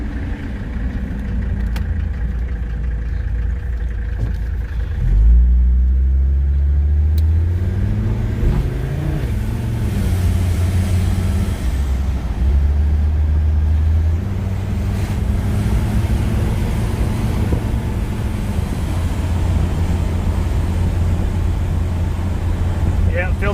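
A Mercedes-Benz 300TD W123 turbo diesel drives with no air filter, its engine droning loud and close as the pitch rises and falls through gear changes and acceleration, with a voice talking now and then over it.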